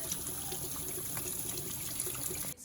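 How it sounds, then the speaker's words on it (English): Hot tap water trickles and splashes steadily over a removable filter from a Frigidaire Gallery dishwasher as it is rinsed, a close continuous stream that cuts off at the end. "Wash this off with some hot water."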